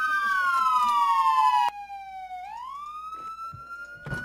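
Police car siren in a role-play video game wailing loudly with a falling then rising tone, briefly cut off and restarting, with faint background noises.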